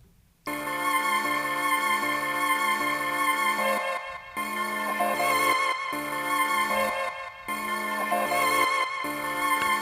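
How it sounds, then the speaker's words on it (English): A processed folk music sample plays continuously, mono and crushed to 8-bit, low-cut around 600 hertz, with a filtered delay. It has steady harmonic tones broken by a few brief dropouts, and there is no talk over it. "I made the sample mono, I put a bit reduction on it, so I made it 8-bit"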